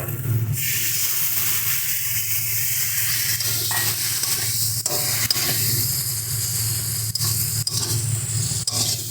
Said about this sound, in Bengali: জল দিয়ে সুন্দর করে কষিয়ে নেব